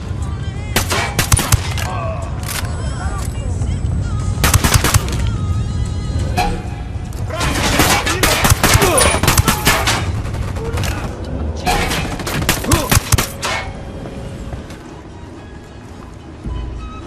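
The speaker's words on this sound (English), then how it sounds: "Open fire." Heavy gunfire in a Ghost Recon Wildlands cutscene, with repeated bursts of automatic fire and booming shots in dense clusters, loud and close, over a rumbling battle backdrop with brief voices.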